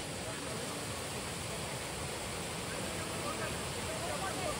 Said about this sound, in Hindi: ऊपर जो है पानी रा झरना आ रहा है